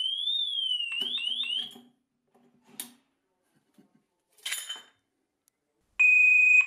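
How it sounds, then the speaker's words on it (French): A motorcycle anti-theft disc lock alarm rated at 100 decibels, shrill rising and falling electronic tones and rapid chirps, then a few clicks and clatters before a loud steady high beep starts again near the end. "On a une alarme qui fait 100 décibels"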